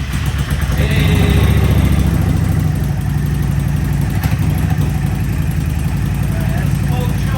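A 1998 Yamaha V Star 650 bagger engine runs steadily with the throttle open after fuel system repair, a continuous low rumble close by, with people talking over it.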